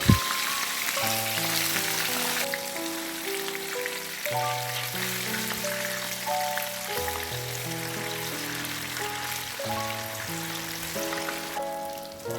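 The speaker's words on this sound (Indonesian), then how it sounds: "sebelum saya bikin tumisan kikil, saya mau goreng tahu dulu ya" Chinese tofu fries in a pan of hot oil, a loud steady crackling sizzle running throughout while soft melodic background music plays underneath.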